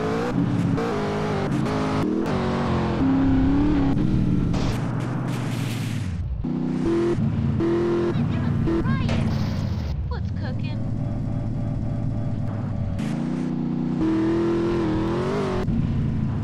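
A car in the video game Grand Theft Auto: San Andreas is driven fast, its engine revving and roaring loudly and continuously with gear-change dips, under game dialogue and music.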